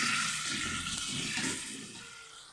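Water poured into frying masala in a pan while cooking a Bengali magur fish curry, a steady rushing splash and sizzle that slowly fades over a couple of seconds, with no talking.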